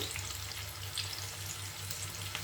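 Maggi noodles with egg and vegetables fry on a low flame, a steady soft sizzle holding at an even level throughout, with a faint low hum underneath.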